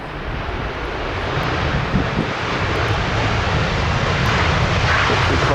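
A jet airliner departing London Stansted Airport roars steadily throughout, a loud, continuous broadband engine rumble with some wind noise and no talk.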